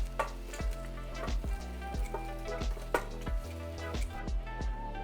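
Pork belly pieces sizzle and crackle loudly as they are flipped from an air fryer basket, with a continuous frying hiss broken by sharp clinks and taps from the turning.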